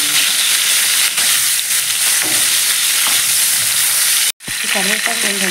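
Green chillies and curry leaves fry in a pan with a loud, steady sizzle, broken by a short gap before the crackling hiss resumes, with no talking over it.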